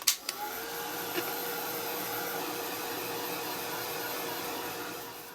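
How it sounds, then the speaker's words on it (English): A hair dryer blows a constant, loud whoosh of air, steady from start to finish after a couple of brief clicks at the beginning. "So let's go back to the dryer."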